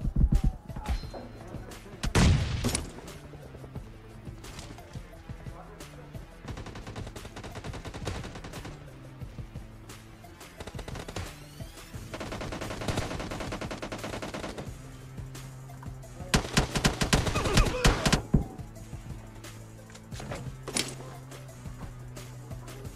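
Bursts of PUBG video game gunfire, with rapid automatic volleys and single cracks scattered across the stretch, some near and loud, others more distant, over a steady game background.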